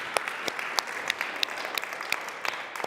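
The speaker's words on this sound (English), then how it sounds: "can we give a round of applause for our staff and for Nick?" A church congregation giving a round of applause for the staff and a ministerial intern at a Sunday service: brisk, even clapping with sharp individual claps standing out near the listener.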